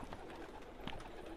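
A freshly caught wild pigeon cooing faintly, a couple of soft low coos over a noisy background in a brief moment.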